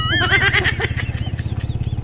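A motorcycle tricycle engine sputters and chugs as it struggles to start, with a steady pulsing putter under a wavering whine at the start, close and moderately loud.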